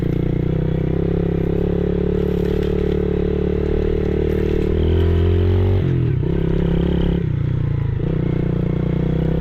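A motorcycle rides a winding country road near Chinchilla, Queensland, its engine droning steadily and loud with wind rush, dropping in pitch and surging as the rider shifts and throttles through bends.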